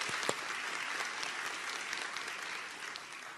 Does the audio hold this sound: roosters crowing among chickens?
no